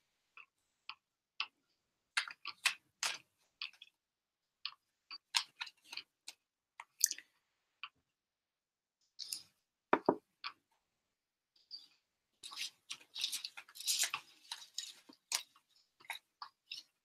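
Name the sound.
shuffling tarot cards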